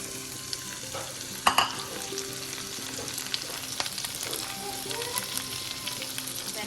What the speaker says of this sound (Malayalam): എല്ലാം ഒന്ന് വാടിയ ശേഷം നമുക്ക് അരിഞ്ഞു വെച്ചിരിക്കുന്ന പാപ്പടി പയർ ചേർക്കാം